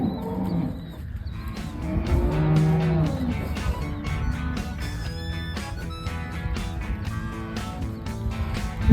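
Cattle mooing loudly and repeatedly as cows are let out of a barn, with long drawn-out low calls overlapping one another against a busy background of farm noise.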